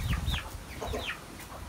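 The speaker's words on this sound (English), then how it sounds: "Here are the chickens." Chickens cluck and squawk in short, scattered calls, moderately close, with a low rumble of background noise underneath.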